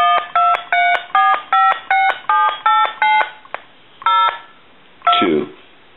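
A Harris TS22 lineman's buttset dials through its keypad, giving a quick series of about ten crisp DTMF tone bursts in an even rhythm, then a pause, one more tone and a short rising squeal, close and with no talk.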